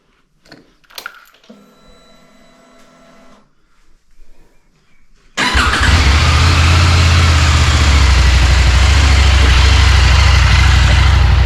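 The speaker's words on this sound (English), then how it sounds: "So we'll flick this bike on now." A 2023 CFMoto 800MT motorcycle fitted with an aftermarket mid pipe starts after a few quiet clicks and a short whirr, then idles loud and steady, its deep rumbling exhaust filling the remaining seconds.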